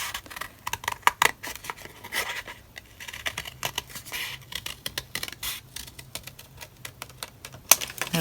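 Scissors snip through paper in a quick run of crisp, close cuts, a rapid irregular series of sharp crunches with short pauses between strokes, shaping a hill-like mound.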